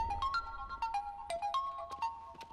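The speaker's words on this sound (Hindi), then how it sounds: "अरे शीनू, किसी का फोन है।" A mobile phone plays a melodic electronic ringtone, a run of bright chiming tones repeating at a moderate, fairly quiet level with nothing else over it.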